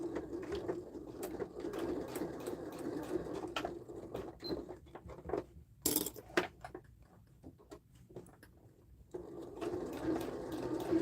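A sewing machine stitches through six to eight layers of fabric at a zipper, running in steady bursts, pausing briefly midway with a few clicks and taps before resuming its rapid mechanical whirr.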